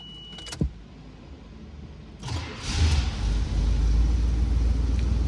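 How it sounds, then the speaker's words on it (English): 1975 Buick Electra 225 engine cranking with a brief click, then catching and settling into a steady low rumbling idle, close and fairly loud. "Let's start it up and hear how she sounds."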